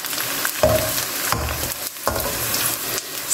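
Edible gum (gond) frying and puffing in a pan of hot fat over a low flame, a steady close sizzle with soft bursts and stirring scrapes, no talking.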